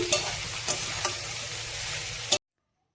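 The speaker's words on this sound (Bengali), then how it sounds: "এবার আমি এখানে এই রসুন কুচিগুলো দিয়ে দেবো, তো হালকা করে ভেজে নেব" Chopped garlic and onion fry in oil in a wok, a steady close sizzle broken by a few sharp spatula scrapes before cutting off abruptly near the end.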